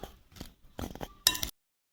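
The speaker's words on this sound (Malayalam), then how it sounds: "നല്ല പോലെ ഒന്ന് ഇളക്കി സെറ്റാക്കുക" A snack mixture is tossed with sauce and spices in a bowl, giving a few short clinking and scraping bursts of a utensil against the bowl, close and fairly quiet, ending abruptly in silence.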